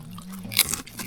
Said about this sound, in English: Wow, the keropok very crunchy